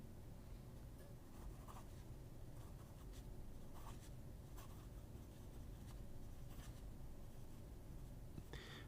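Pelikan 930 fountain pen with a broad number 9 nib scratching across paper, a soft continuous writing rustle with small stroke-by-stroke variations, close and quiet.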